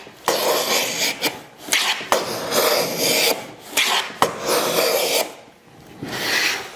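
A hand plane trims a wooden case miter on a shooting board in repeated rasping strokes, each a second or so long, separated by brief pauses and knocks, close up and with no speech.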